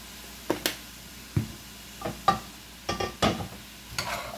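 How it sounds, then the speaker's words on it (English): Vegetables are stirred and sweated in a pot with black pepper and onion powder, giving a few soft scraping strokes and light clatters spaced apart over quiet background, close by. "We're going to stir these around and sweat them."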